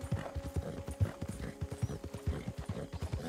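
Horse hooves thud in a steady galloping rhythm while riding in Red Dead Redemption 2, close and clear over faint ambient background.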